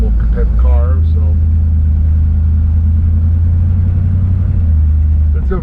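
A 1955 Chevrolet Bel Air four-door station wagon with a V8 idles with a steady low rumble and a slight exhaust leak, with a brief rev near the start and someone talking over it.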